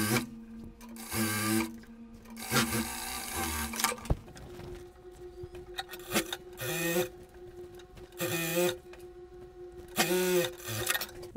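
A sewing machine runs in several loud bursts of rapid whirring stitches, separated by short pauses and handling noises, as trouser seams are sewn with straight stitch and overlock.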